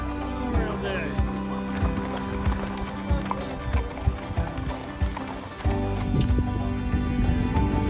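Horses' hooves clip-clop in an uneven rhythm on a Memorial Day group ride toward Fort Frederick in Maryland, close and clear, with a whinny early on and a rider's voice heard over parts of it.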